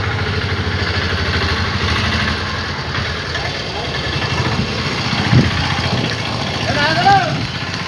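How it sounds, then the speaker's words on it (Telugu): A farm vehicle engine runs steadily with a low, rough idle throughout, close and continuous, with a few brief knocks and clunks near the end. "ఇది మా పొలాల బండి"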